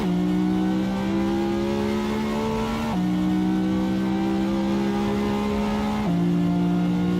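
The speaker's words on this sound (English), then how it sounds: "the exhaust is making a lot of noise right there" A Ferrari roars through its exhaust in the Assetto Corsa racing game, the loud, steady engine tone climbing through the revs and dropping sharply at two gear shifts before climbing again, with no one talking.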